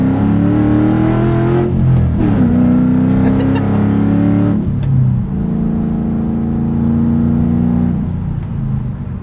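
A loud 2007 Ford Mustang Shelby GT S197 with a 5-speed manual drives along, its engine droning close and steady as it revs, dropping in pitch between shifts and then climbing again.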